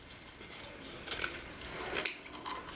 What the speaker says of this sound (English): go ahead and cut it off of the roll.